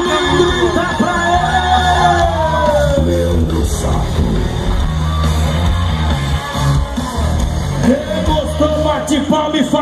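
Crowd at a rodeo during the 27th Festa do Peão in Pacaembu, São Paulo, yelling and cheering loudly and continuously, mixed with music and an announcer's voice over a public address system.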